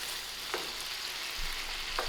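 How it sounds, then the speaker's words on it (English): Seafood for paella stir-fried in a pan, a steady bright sizzle running throughout with a couple of short scraping stir strokes and a low knock midway, close and moderately loud. "I'm giving it a quick"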